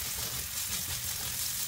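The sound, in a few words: onion and ginger sautéing in hot cooking oil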